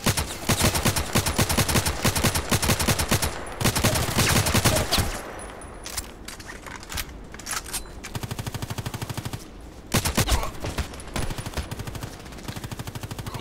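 Rapid automatic gunfire in the online shooter Contract Wars, loud, close bursts of machine-gun fire with short pauses between volleys and scattered single shots.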